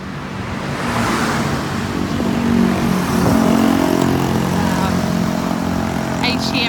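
Road traffic along Bypass Road in Sanur, Bali: a loud continuous wash of passing cars and motorbikes, with engines swelling and fading close by.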